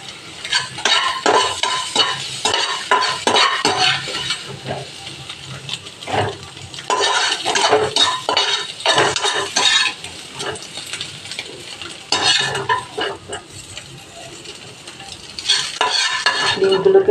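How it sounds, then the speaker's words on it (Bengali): Egg frying in a pan while a utensil stirs and scrapes it, a steady oily sizzle broken by repeated metallic scraping strokes in bursts, close and fairly loud, with no talking. "ডিমটা ভাজা ভাজা হতে হতে"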